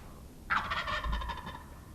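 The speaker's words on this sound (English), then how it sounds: "and then we heard him gobble" A wild turkey gobbles once, a loud rattling call from fairly close that fades after about a second, alone over quiet outdoor background.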